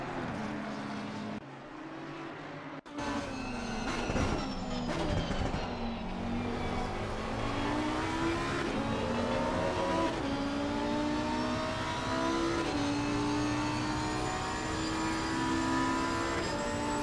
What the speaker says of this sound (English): let's go and catch on board once again with the Lamborghini here